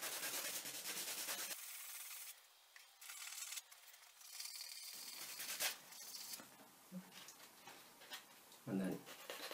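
Fine-grit sandpaper rubbing over a handmade keyring to smooth lumps of dried glue-stick glue, a close, soft scratchy rasping in short passes with brief pauses, joined by a few faint handling knocks.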